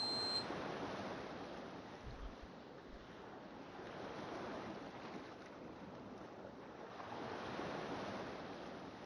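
Water in the video game Radiant Chain gives a soft, continuous wash like surf. It swells gently and stays faint and even, with no voice over it.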